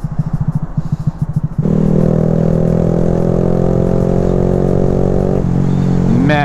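A Honda Grom motorcycle fitted with an M4 exhaust rumbles loud and close, a choppy idle pulsing for a moment before it revs up into a steady, deep-toned drone that eases off near the end.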